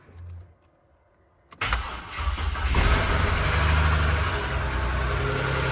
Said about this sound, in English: I'm gonna just see if we've got enough charge to start it